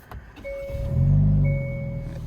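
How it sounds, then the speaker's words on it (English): A chime tone sounds, then a Hyundai Elantra N sport sedan engine cranks and fires up with a loud rev that settles into a steady idle. "let me go ahead and actually just start this car"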